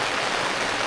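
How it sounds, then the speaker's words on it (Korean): Steady rain drums on a camping tarp stretched from a car at a campsite, a dense, even hiss that fills the short stretch close by with no talk. "타프 밑에서 오랜만에 빗소리 들으니까 너무 좋다."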